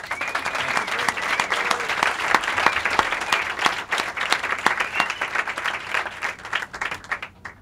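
An audience applauds to welcome author Matt Klam at a book event, steady, dense clapping from a full room that holds for several seconds before thinning at the end.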